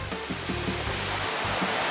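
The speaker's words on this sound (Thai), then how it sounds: "น้ำไหลครับช่วงนี้ครับ" Saeng Chan waterfall (Long Ru) in Ubon Ratchathani during the rainy season, heard from the top of the falls as a steady, dense rush of flowing water with no voices.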